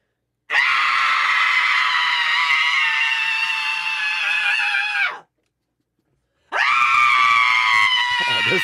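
A person screams loudly in a long sustained shriek, breaks off for about a second, then lets out a second equally loud scream.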